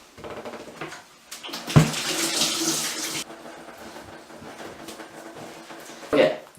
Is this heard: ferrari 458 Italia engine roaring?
no